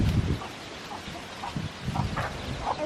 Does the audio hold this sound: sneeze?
no